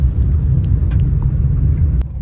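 A car driven slowly past a tech campus in Nagpur, a steady low engine and road rumble heard from inside, close and continuous, with faint ticks over the drone.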